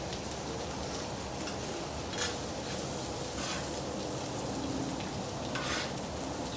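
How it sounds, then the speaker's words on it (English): Butter sizzling loudly and steadily on a hot Blackstone griddle with sausage and cabbage, a dense close frying crackle with a few faint utensil clinks and no talk. "I'm also going to throw in the rest of this butter"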